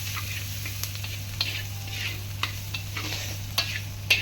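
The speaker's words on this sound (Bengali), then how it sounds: "রসুন আর কালো জিরা আর লঙ্কা ভাজা হচ্ছে।" Garlic, black cumin and chili fry in oil in a pan, giving a steady soft sizzle with occasional light stirring clicks over a constant low hum, and no one speaks.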